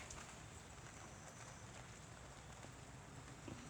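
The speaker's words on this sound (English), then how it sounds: "It's raining." Rain falling during a thunderstorm with lightning, heard as a steady, faint broadband hiss that stays even throughout, with no voices.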